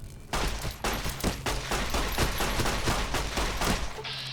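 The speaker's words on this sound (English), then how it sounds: "maybe I should shoot a little less indiscriminately" Sustained rapid gunfire in Fallout: New Vegas, a dense run of loud close shots firing steadily for about four seconds before stopping abruptly, no speech.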